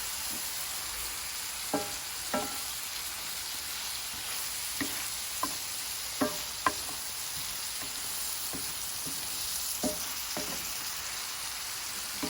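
Onions frying in a pan for a surf and turf dinner hiss in a steady, gentle sizzle, dotted with scattered clicks and taps of a utensil against the pan, close and with no one talking.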